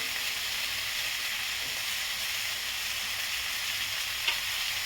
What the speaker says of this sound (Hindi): को मैं हाई फ्लेम पर कर दी हूँ और इसे मैं अब भूनूंगी